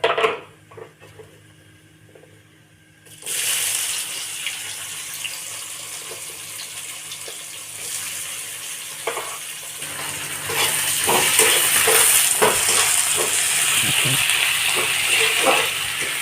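Chopped onion with nigella seeds hitting hot oil, a loud steady sizzle that jumps in suddenly after a quiet start and grows stronger near the end, with faint clinks mixed in.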